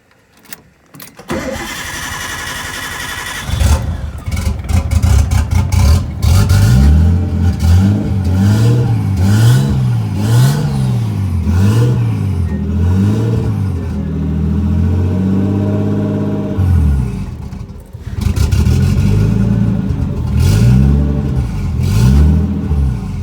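A Nissan 240SX with an RB20DET engine, just fitted with a new alternator, cranks briefly and fires up, then revs loudly and close by in repeated rising and falling swells before settling back.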